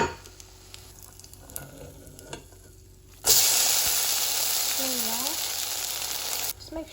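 A Greggs vegetable bake pasty in hot oil in a pan over a low flame, quiet bubbling at first, then a loud, steady sizzle that bursts up as it is turned and continues close by.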